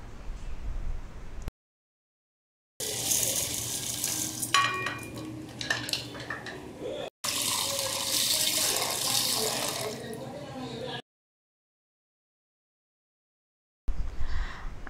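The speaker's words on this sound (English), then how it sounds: "And now I'm going to wash it in water." Black horsegram is washed in water in a kitchen, bursts of running water and sloshing with clinks of a vessel, broken by silent pauses, with some voice in the background.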